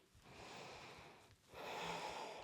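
Slow, deep breaths during a yoga flow, a long exhale followed by a fuller inhale, close and soft with no talking.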